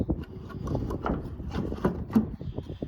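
Plastic snap bolts pressed into a 2018 Toyota Tacoma TRD Off-Road tail light housing, heard as a few close, faint clicks and rubbing handling noises with no talk.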